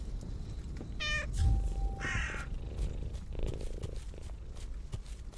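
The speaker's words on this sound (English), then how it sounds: "Hey, kitty." Cat purring and meowing in a horror-style Farming Simulator game, with several loud, close meows and caw-like cries over a continuous low purr and game background.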